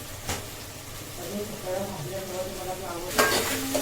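Food being mixed in a cooking pan gives a low, steady sizzle, with a couple of sharp scrapes and knocks from the utensil. A voice talks over the stirring.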